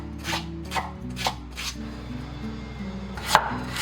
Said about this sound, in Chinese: 然后再给它切成小块一点